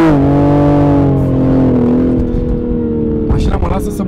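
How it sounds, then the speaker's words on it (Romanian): A car engine revs hard as the driver presses the throttle, its loud, rising then steady drone dominating the cabin before a burst of tire or road noise near the end. "Deci dacă eu dau gaz acum,"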